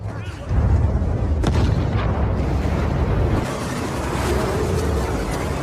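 A deep, rumbling bomb blast in a film scene swells up and rolls on in a sustained roar, loud and close, with crackling debris and a low boom continuing throughout.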